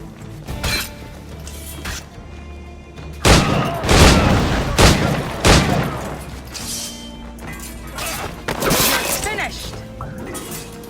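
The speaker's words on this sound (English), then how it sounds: "Fire at the powder keg!" Powder keg explosions and gunfire in the Assassin's Creed IV Black Flag video game: heavy booming blasts and crackling shots burst out in clusters, loud and close, over a rumbling battle background.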